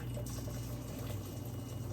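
Water is strained off soaked beans for stew peas, heard as a faint, continuous rushing and trickling that stays steady throughout.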